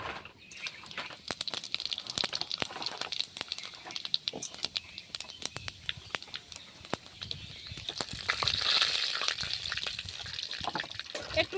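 Faint crackling and spitting of dried red chilli, bay leaf and panch phoron frying in hot oil, with irregular sharp pops scattered throughout and a soft rising hiss near the end.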